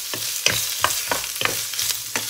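Ginger sauce for grilled fish is stir-fried in a pan, giving a soft steady sizzle broken by repeated sharp scrapes and clinks of a utensil stirring at a fairly even rhythm, close and alone without any voices.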